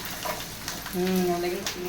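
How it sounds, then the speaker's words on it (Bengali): Mini papad frying in hot oil, a short close sizzle and bubbling with a brief stir, while a voice briefly hums or speaks faintly over it. "সকালে যে পাঁপড়গুলো নিয়েছিলাম এখন ভাজবো"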